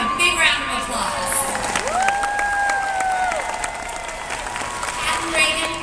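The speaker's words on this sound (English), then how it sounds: "Let's give them a big round of applause." An audience applauds two sales directors at a Mary Kay product presentation, a moderate crowd patter with light cheering, and a whistle-like tone gliding through the middle.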